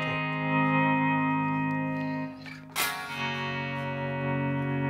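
An electric guitar plays the lead part of a song, with sustained notes swelling in volume through distortion and effects. A brief bright attack comes near the middle, then the sustained tone continues, with no talking.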